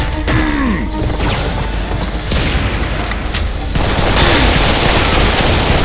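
A fast burst of gunfire in Serious Sam 3 empties a full magazine, rattling continuously, with sharp cracks and impacts blending into a dense, loud barrage.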